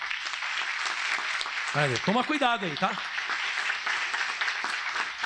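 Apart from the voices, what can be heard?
congregation applauding in church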